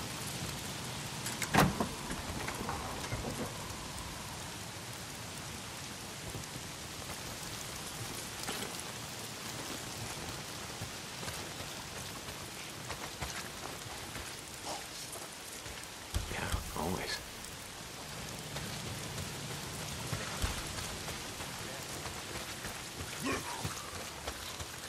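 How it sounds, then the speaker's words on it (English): Steady rain falls throughout in the Days Gone video game, a dense even hiss on surfaces, with occasional thuds and a voice speaking over it. "If it's not the freaks, it's the goddamn rain. Why is it always raining?"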